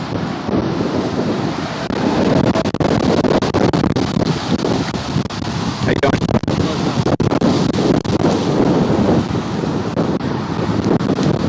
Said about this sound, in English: it's a windy day out and I'm hoping that I can test my mic on this windy weather